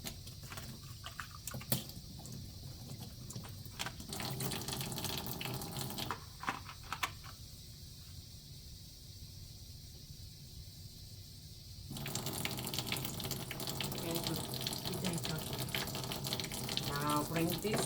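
Tap water runs steadily into a sink as dentures are rinsed during resident mouth care, a continuous close splashing hiss that swells slightly louder near the end, with no talking.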